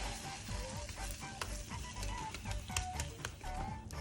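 A buckwheat galette sizzles in a hot pan just after flipping, a close, crackling fry with rapid popping and ticking over a low background rumble.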